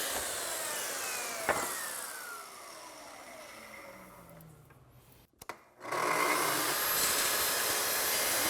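Saw cutting wooden cabinet carcass parts to length, a loud continuous cutting noise with a falling tone as the blade slows, a brief pause, then the saw spinning up loudly again.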